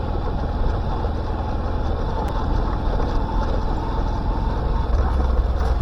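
A motorboat engine runs at Bortir Bill with a continuous, loud, low rumble, close and unbroken throughout.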